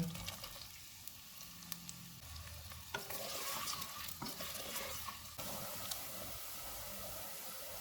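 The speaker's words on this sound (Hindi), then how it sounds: "2 प्याज डालेंगे, इनको गोल्डन फ्राई करेंगे" Two onions frying to golden in a hot pot for mutton handi, sizzling with a steady crackle and occasional stirring clatter throughout.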